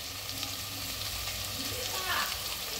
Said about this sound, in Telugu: సో ఫస్ట్ అయితే మనం ఆనియన్ తర్వాత పచ్చిమిర్చి వేసుకొని కలుపుకొని కొంచెం వేడయ్యాక ఆలు అయితే వేస్తున్నాం.